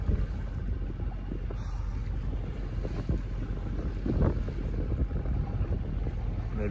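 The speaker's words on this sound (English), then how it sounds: "What do you know? Wind." Wind roars across the microphone while out on the water in a small boat on a solo trip, a constant heavy rumble with gusty buffeting and faint splashes, no voices.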